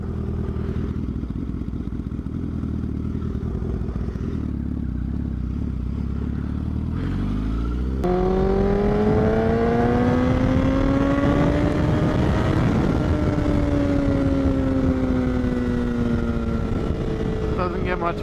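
A motorcycle fitted with a straight-piped Toce exhaust idles with a low, uneven rumble, then after a sharp step up revs loudly, the pitch climbing steadily to a peak before easing back down, close and dominating throughout.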